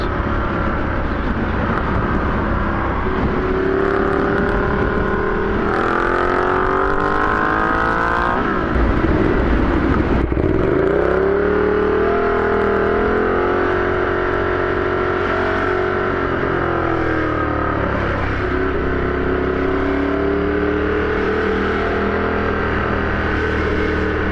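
A Ducati Diavel motorcycle fitted with a 14T sprocket accelerates hard, its engine note climbing through the gears with a drop between shifts, loud and close for the whole stretch, with no talking.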